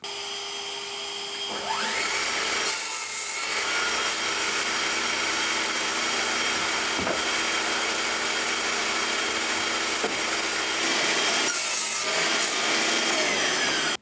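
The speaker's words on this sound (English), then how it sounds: "so I need to cut down 3 more pieces to length" Pieces of wood are cut to length for an under-sink cabinet with a loud, steady, close-up power saw whine, broken by brief pauses and faint knocks.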